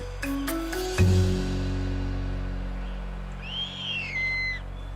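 An owl in the African wild gives a short, clear hooting call partway through, heard over quiet background ambience after a brief sharp knock.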